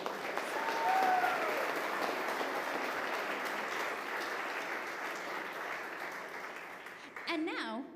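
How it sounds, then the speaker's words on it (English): Audience at a bell choir farewell concert clapping in sustained applause that peaks early then slowly fades, ending with a brief voice. "let's give Esther a round of applause"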